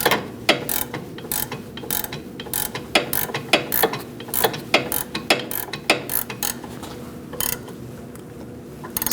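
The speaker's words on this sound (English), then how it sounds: "Now we're going to tighten up the nut." Ratchet wrench clicking in bursts while tightening the nut on a front sway bar link of a Chevrolet Cruze, loud and close, with short pauses between strokes.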